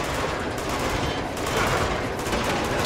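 Dense rapid gunfire from Uncharted 2 on PS4 during a moving-train fight, a continuous loud rattle of shots filling the whole stretch without pause.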